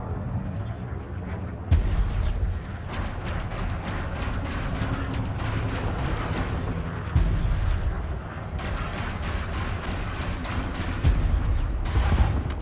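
Imperial Cutter ship weapons firing in Elite: Dangerous space combat, a rapid continuous stream of pulsing shots in long bursts with brief pauses between them, loud and dense throughout.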